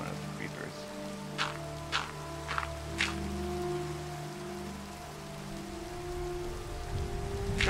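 Steady Minecraft rain hisses continuously, with a few soft thumps and taps scattered through it while a person talks quietly underneath.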